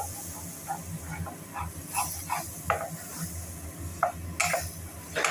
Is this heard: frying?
yes